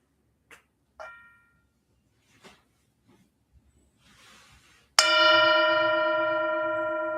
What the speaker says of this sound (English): I'll invite the bell to sound one more time